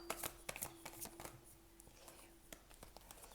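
Leicester Tarot cards are shuffled by hand in rapid, crisp riffling bursts of slaps and flicks, close and quiet, with a low hum underneath.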